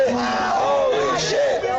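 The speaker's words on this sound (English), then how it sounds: "As you can hear, the crowd is freaking loving this shit." Crowd at an indie wrestling match yelling and cheering loudly as one sustained roar of many voices, with individual shouts rising out of the mass.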